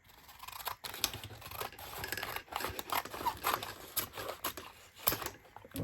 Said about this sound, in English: I'm going to trim it a little bit as well.